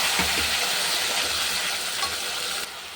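Chili, ginger and tomato paste hit potatoes frying in a pan for a fish and potato curry, raising a loud, continuous close sizzle with faint stirring scrapes throughout.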